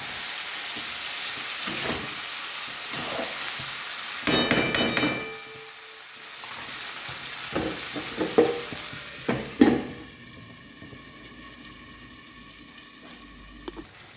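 Sliced tomato fries in a pan with fish and potatoes, a close hiss of sizzling oil broken by clattering stirs and taps of a utensil, with the sizzle softening toward the end.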